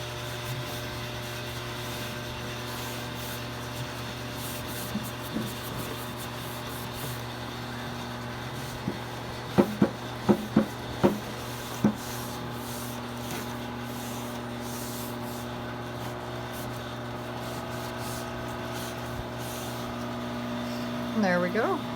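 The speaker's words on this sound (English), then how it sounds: "I have my heaters going on here in the back" Space heaters blow a steady, even hum throughout while a wooden coffee table's fresh finish is wiped down, with a few soft rubbing and knocking sounds partway through.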